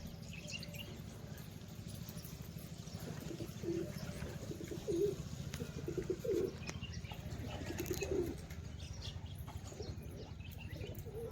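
Pigeons coo on a rooftop, several soft repeated calls rising over a steady low rumble, with an occasional faint flutter of wings.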